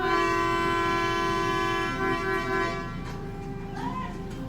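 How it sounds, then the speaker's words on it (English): A loud, sustained boat horn blast with rich harmonic tones, close and powerful, fading slightly and then wavering toward the end. "I am going to blow the horn 4 times."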